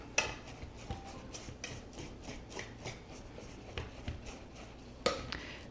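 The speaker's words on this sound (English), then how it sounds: "I'm going to give that a whisk." Protein powder, cinnamon, baking soda and salt are whisked dry in a bowl, producing quiet, rhythmic scraping and rubbing strokes with occasional light taps against the bowl, close and faint.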